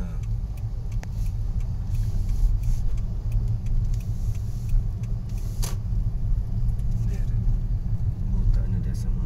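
Road traffic at a stoplight on Lacson in Bacolod, with a steady low rumble of car engines, some revving and a few brief sharp noises, all under someone talking close by.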